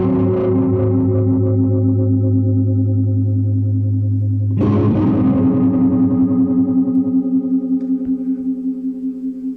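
A sustained organ-like guitar chord through a Neo Ventilator 2 rotary speaker pedal, its swirling wobble speeding up after a sudden bright swell midway, loud and close.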